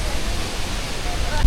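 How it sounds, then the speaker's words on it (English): A waterfall in the Philippines gives a dense, continuous rushing roar with wind buffeting the microphone, and a brief thump at the very end. "Nice waterfall here."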